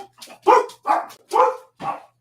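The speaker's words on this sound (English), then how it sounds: "My stupid dog's barking because why not?" A dog barks four times in a loud, close, evenly spaced series, each bark short and sharp, with quiet gaps between.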